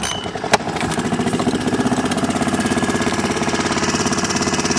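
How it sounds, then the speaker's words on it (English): Nearly new Honda outboard motor on a small boat starting with a sharp catch, then settling into a steady, close, pulsing idle with an even rhythmic chug. "The outboard, it's a Honda, almost brand new, probably only 50 or 60 hours old."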